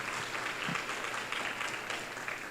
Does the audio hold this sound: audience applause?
yes